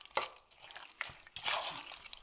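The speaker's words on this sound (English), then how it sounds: "Stir until you cannot see the white flour" Spoon stirring kimchi pancake batter of flour and chopped kimchi, soft wet slaps and scraping strokes in a few irregular bursts, quiet and close.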